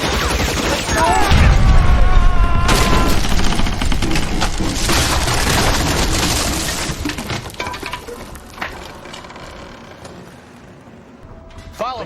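Gasoline barrels shot and bursting in L.A. Noire, a loud, dense crash of gunfire, breaking and creaking debris that roars for several seconds, then thins into scattered rattles and clatter as the blast dies away.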